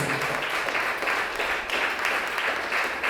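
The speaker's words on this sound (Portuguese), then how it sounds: "As palmas louvam a Deus." Steady, full applause from a church congregation at a communion service, many hands clapping together in a close, unbroken wash that holds its loudness from start to finish.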